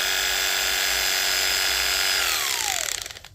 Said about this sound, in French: là, je vais allumer la tondeuse